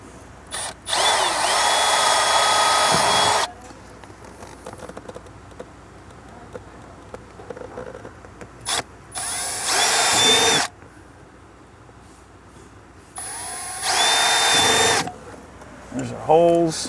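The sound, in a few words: power drill drilling 1/8 inch holes for pedal covers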